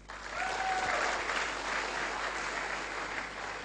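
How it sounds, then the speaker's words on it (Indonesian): An audience at a meeting claps for a speaker, a continuous, moderately faint ripple of applause that swells early and holds steady. "Untuk itu sekali lagi tepuk tangan untuk Bapak Yatmin"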